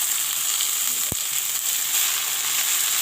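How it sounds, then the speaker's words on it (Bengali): Chopped jute leaves fry with onion and green chili in hot oil, giving a steady, close sizzle throughout, with a couple of sharp utensil clicks and no speech. "পাট শাকটা একটু একটু করে এই পেঁয়াজ লঙ্কার সঙ্গে ভেজে নেব।"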